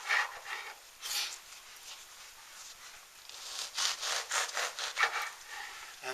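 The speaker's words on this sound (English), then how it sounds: "we're going to slice approximately an inch, but we're going to cut it vertically, not horizontally" A knife saws through a loaf of bread for garlic bread in short rasping strokes, quick and fairly faint, with crumbly crackles between the passes.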